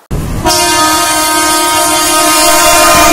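A Mumbai local train sounds its horn loudly and steadily for about three seconds after a brief rumble of the running train, with no talking.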